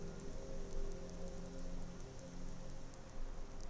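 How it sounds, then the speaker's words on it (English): Steady rain falls in Skyrim as an unbroken hiss of drops spattering on surfaces, fairly loud and even throughout with no talking. "It's still raining."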